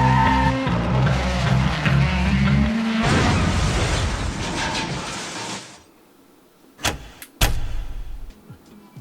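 A Carrera Evolution Porsche 911 Carrera S Cabriolet slot car races along its track with a loud electric motor whine rising into a rushing roar, then cuts off, leaving a few sharp clacks.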